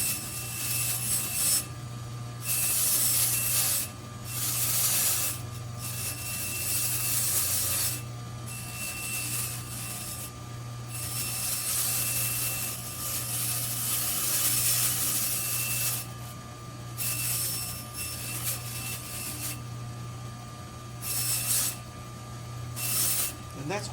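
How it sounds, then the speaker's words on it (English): A fine 3M brush polishes a homemade pendant with a steady, loud rubbing whir that comes in long bursts separated by short pauses, with a constant low hum underneath. "to a finer 3M brush, and that's going to put a little polish on it."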